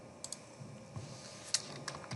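Keys tapped on a computer keyboard while typing a new folder name, a few faint scattered clicks over quiet room hiss.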